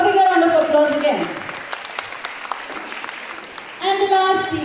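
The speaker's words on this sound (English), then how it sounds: "A bigger round of applause again" Applause for a school Science Day team, a scattered round of clapping in the middle with tonal voices or music before and after.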